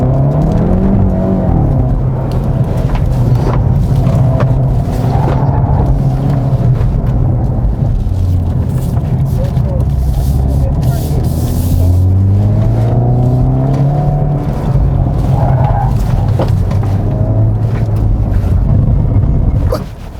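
A 2020 Hyundai Veloster N with DCT roars hard off the line under launch control, its engine note climbing and dropping through quick gear changes for about twenty seconds, loud and close with no talking.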